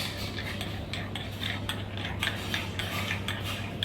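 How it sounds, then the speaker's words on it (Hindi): A spoon stirs freshly extracted espresso in a cup, its clinks and taps against the sides coming in a quick, steady rhythm over a low constant hum. The clinks sound close and moderately loud, and there is no talking. "अभी इसको मैं एक स्पून से स्टर करूँगा।"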